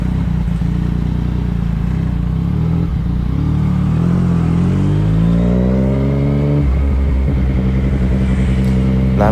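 A Yamaha MT-09 motorcycle with a loud aftermarket exhaust revs hard inside a tunnel, its deep engine roar climbing and falling through several throttle blips, booming and continuous at close range.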